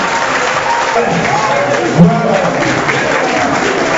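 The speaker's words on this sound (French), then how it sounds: "je voudrais maintenant vous demander d'applaudir très fort nos deux candidats" An audience at a community presidential election debate in New York applauds the two candidates, dense steady clapping mixed with crowd noise throughout, with a voice briefly speaking over it midway.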